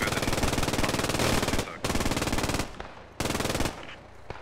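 Machine gun fire in the war game Mission: Reign of Fire, a loud, rapid, continuous rattle in three sustained bursts separated by short pauses.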